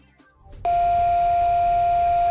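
An alarm transmitter answers a motion detector's test button with a single loud, steady electronic tone that lasts almost two seconds after a short quiet stretch.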